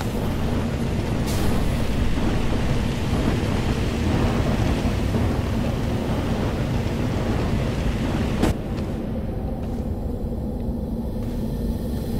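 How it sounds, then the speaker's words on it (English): Thunderstorm in the space survival game Astroneer: a continuous loud roar of rain and rumbling thunder, with a sharp crack near the middle and the storm easing slightly afterward. "Fuck you, storm."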